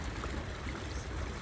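Free irrigation water from a lake runs through a wooden channel on farmland in Italy, giving a steady, faint rushing trickle with no break.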